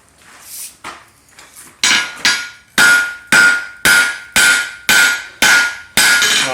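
Hammer blows forge a railroad spike knife on an anvil: a few lighter taps, then a regular run of loud, ringing metallic strikes about twice a second, each with a short bright decay, close and alone.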